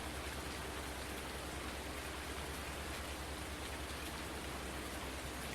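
Steady rainfall in Farming Simulator 19 hisses evenly and without a break, a dense, constant wash of falling drops at moderate level with no voices over it.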